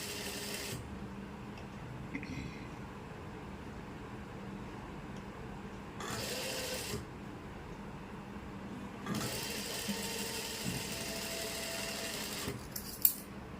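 A sewing machine stitches a kali panel of an anarkali dress in several short bursts of steady whirring, each a few seconds long, separated by pauses with a low background hum.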